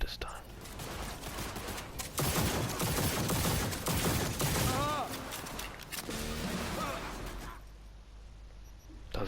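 A Cyberpunk 2077 gunfight near a road with police: dense, sustained volleys of gunshots, some sharp and some overlapping, over a busy game soundscape. The firing thins out and goes quiet toward the end.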